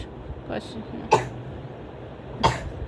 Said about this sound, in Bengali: কাশিটা সারাই দাও